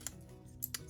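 Scissors snipping a paper printable for a journal cover, with a few quick, quiet crisp cuts in an otherwise hushed room.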